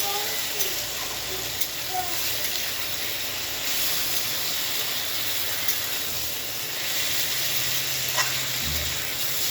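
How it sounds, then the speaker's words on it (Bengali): Fried potato and cauliflower curry is stirred in a hot oily pan, a steady close sizzle and hiss running throughout with occasional faint scrapes. "এবারে ওকে 2 মিনিট নাড়াচাড়া করব।"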